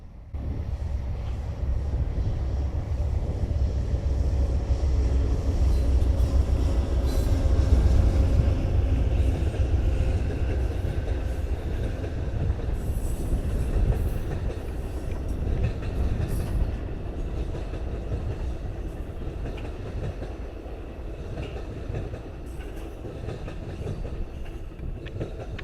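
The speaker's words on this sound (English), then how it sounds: "we finally see another Amtrak train, which was Amtrak train number 4, the westbound Southwest Chief, coming out of Chicago, Illinois, and heading for Los Angeles" Amtrak train number 4, the westbound Southwest Chief out of Chicago bound for Los Angeles, rumbles past at close range in a loud, sustained roar with steady wheel and rail noise throughout.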